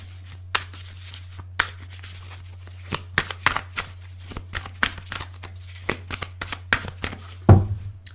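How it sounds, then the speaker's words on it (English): Tarot cards being shuffled by hand in irregular bursts of crisp riffling snaps and taps, close up, over a constant low hum. "Funny Spirit asked me to shuffle it 7 times"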